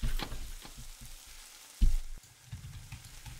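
Food sizzles in a fryer in the cooking game One Armed Cook, a crackling fry hiss broken by a few sharp clicks and a louder thump partway through, with no talk.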